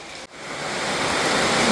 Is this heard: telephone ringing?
no